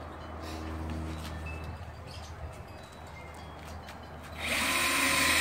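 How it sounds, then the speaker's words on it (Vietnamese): Cordless battery drill running in short bursts with a steady whine, fairly close, with birds chirping faintly in the background and a louder broadband burst near the end. "Này khoan pin."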